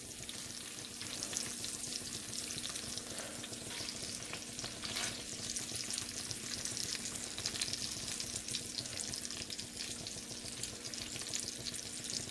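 Prime rib bacon burgers fry in a Lodge enameled cast iron skillet, giving a steady, close, even sizzle with a crackling hiss that holds at the same level throughout, with no talking.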